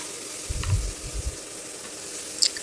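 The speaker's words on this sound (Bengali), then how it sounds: "কাঁকরোলটা এখন আমি ভেজে নিচ্ছি।" Spiny gourd (kankrol) frying in oil over medium heat, a faint steady sizzle and hiss with a few soft low knocks near the start.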